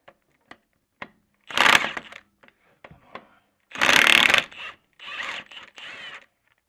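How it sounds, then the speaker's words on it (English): A socket wrench works to remove a crank bolt from a car engine's harmonic balancer. Sharp isolated clicks alternate with several short, loud bursts of rapid ratcheting, heard close and on their own. "we need to pull the crank bolt out, and then we can set up the tool and pull the balancer off"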